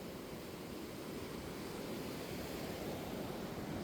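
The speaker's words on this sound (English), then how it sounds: "Look at it, how strong that is. It's very strong water." A strong river below Chirripó in Costa Rica rushes in a steady, dense roar of water that stays loud and unbroken throughout, with no voices.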